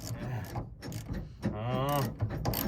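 A ratchet wrench tightens a bolt on a Chevy Colorado engine during an engine swap, giving quick mechanical clicking bursts up close, mixed with a brief voice partway through.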